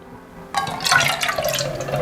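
Water poured into a pan while making a professional shine glaze with glucose, a steady splashing fill that starts abruptly and continues close by without talk.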